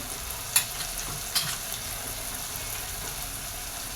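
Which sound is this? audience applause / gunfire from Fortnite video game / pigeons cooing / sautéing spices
sautéing spices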